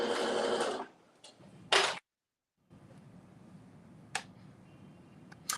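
Sewing machine stitching Ankara fabric, a short whirring burst, then a brief second run after a pause, with faint clicks and a gap of silence, close and alone.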